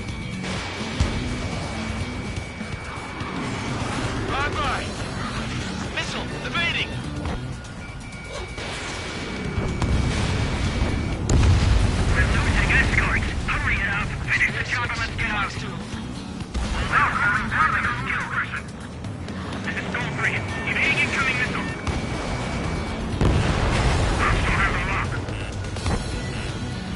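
Missile explosions and combat noise from the Ace Combat jet fighter game, with heavy crashing booms and bursts layered over continuous engine roar, loudest in the middle stretch.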